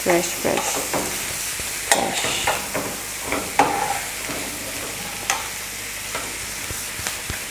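Sausages frying in their own juices in a pan, a steady dense sizzle with repeated clicks and scraping knocks of stirring throughout, close and fairly loud, no talking.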